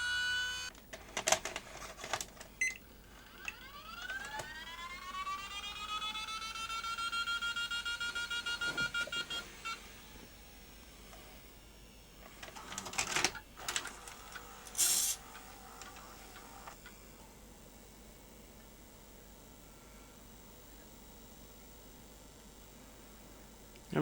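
A repaired Panasonic S-VHS video recorder, AG-4700/NV-HS1000, runs its mechanism: a rising whine as the drum spins up, then clicks and clunks of the transport, followed by a soft steady hum.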